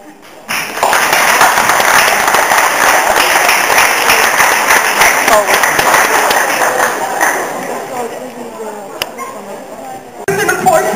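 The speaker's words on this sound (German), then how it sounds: "Euren Applaus hier" An audience at the Nicon 2009 convention in Hannover bursts into sustained, loud applause that holds steady for several seconds and then gradually thins out.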